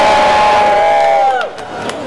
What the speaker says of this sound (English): So if you guys are good audience, please make some noise.